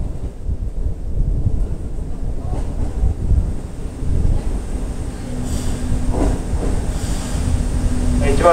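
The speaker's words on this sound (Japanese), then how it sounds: "まもなく列車が参ります。" A local train bound for Shingu rumbles into Owase Station in Japan with a steady low roar and wind buffeting, faint announcements and metallic squeals rising near the end.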